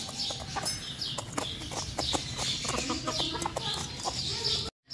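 Feeding chickens cluck repeatedly up close, a busy overlapping chatter of short clucks and chirpy calls with pecking clicks, steady throughout and cutting off abruptly at the end.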